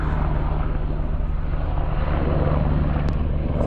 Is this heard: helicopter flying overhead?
yes